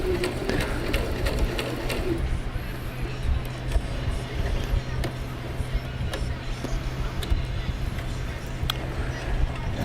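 A sewing machine runs continuously while stitching seams on a costume piece, its steady mechanical whirring close and fairly loud throughout.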